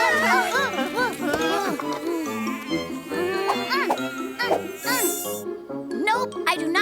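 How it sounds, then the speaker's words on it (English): Cartoon mosquitoes buzz in a forest, a thin insect whine running steadily under a busy, layered musical score with tonal melodic lines throughout. "There's lots of mosquitoes around"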